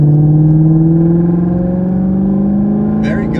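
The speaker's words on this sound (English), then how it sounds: "step on the gas a little bit less than halfway, and see how this vehicle can accelerate" A Lexus RC-F sports coupe accelerates on a highway with a loud, steady engine drone whose pitch climbs smoothly as it speeds up, heard from inside the car with a brief faint chirp near the end.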